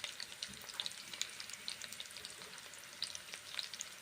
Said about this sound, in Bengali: 4টে ছোট ছোট পেঁয়াজ কুচিয়ে ভেজে নিচ্ছি